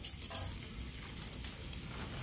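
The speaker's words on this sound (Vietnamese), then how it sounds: "Dầu của mình nóng thì các bạn để vô thì nó văng tí tách các bạn" Minced shallots sizzle and crackle in hot oil, a steady bright hiss with small popping spatters, close up and alone.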